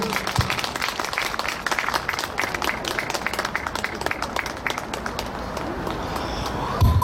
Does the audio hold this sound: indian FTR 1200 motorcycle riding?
no